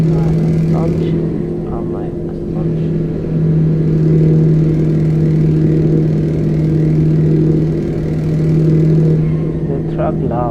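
Loud, steady truck engine drone from Euro Truck Simulator 2, a constant rumbling hum with slight swells throughout, with someone talking over it.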